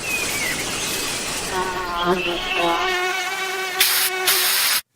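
A mosquito whines in a commercial for Off Clean Feel fragrance-free repellent, a thin, wavering buzz that drifts near and loud over a soft summery background, with a voice likely present, before cutting off abruptly.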